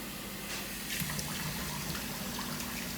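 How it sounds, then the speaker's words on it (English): Water, three cups of it, pours into an already very hot blender, a steady rushing, splashing wash that runs continuously for three seconds at a fairly close, even level. "So you're gonna add 3 cups of water"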